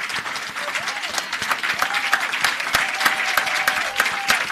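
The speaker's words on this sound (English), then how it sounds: "we want to give our beautiful, brilliant future leaders a round of applause" A leadership summit audience claps in a dense, sustained round of applause with some cheering voices mixed in.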